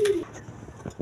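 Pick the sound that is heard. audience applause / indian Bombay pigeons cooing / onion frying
indian Bombay pigeons cooing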